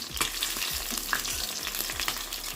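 Banga Mary fish frying in hot oil, Jamaican style, turned over so the bottoms crisp: continuous close crackling sizzle with repeated spatula clinks and scrapes, no voices.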